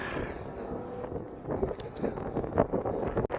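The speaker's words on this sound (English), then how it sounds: "it's windy" Rumbling, buffeting wind hitting the microphone of a smartphone filming outdoors during a camera comparison, continuous and fairly loud with gusty swells and no speech.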